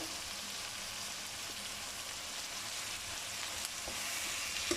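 Chicken pieces coated in ginger-garlic powder sizzle in a pan for aloo gosht, a steady broadband crackle and hiss that builds slightly, with a few faint clicks near the end and no voices.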